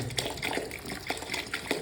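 Tap water pours into a paint sprayer container, a close, steady splashing fill with small gurgles and bubbling throughout.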